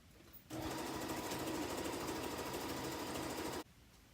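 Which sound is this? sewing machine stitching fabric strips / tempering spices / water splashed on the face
sewing machine stitching fabric strips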